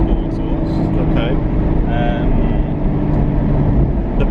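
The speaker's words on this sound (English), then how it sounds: "And a proper exhaust. A real exhaust." A Porsche GT4 with a motorsport exhaust drones loud and steady at a constant engine note for a few seconds, with faint voices underneath.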